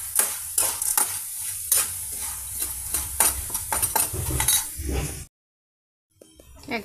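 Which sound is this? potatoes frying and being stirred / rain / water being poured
potatoes frying and being stirred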